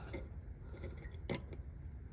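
Side cutters snipping resistor wire inside an American Standard heat pump, a few faint metallic clicks and one sharper snip near the middle, close and quiet with no talk.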